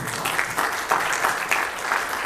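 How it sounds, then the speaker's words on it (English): Audience applause after a debate on immigration, moderate in level with a steady patter of clapping and small surges, no voices over it. "Let's give them another round of applause."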